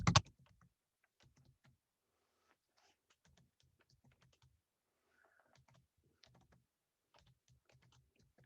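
Soft, rapid keyboard typing, faint and close, in uneven bursts of keystrokes with brief pauses, after one louder click at the start.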